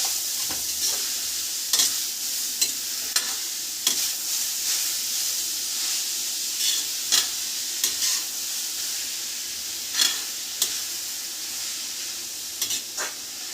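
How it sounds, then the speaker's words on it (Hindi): Crushed bottle gourd cooking in hot ghee for a halwa, a steady close hiss of sizzling with periodic sharp spatula scrapes and clicks against the pan, no voices. "थोड़ी देर लौकी को हम ऐसे ही पकाएंगे।"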